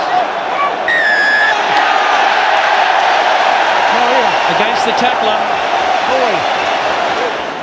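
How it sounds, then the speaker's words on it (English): A large rugby match crowd roars and cheers continuously, a dense loud wall of shouting and whoops from the stands, with a commentator talking over it and a whistle blast near the start. "The crowd will tell you again. Delirious."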